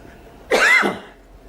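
A single harsh cough bursts out up close, brief and raspy, against quiet background.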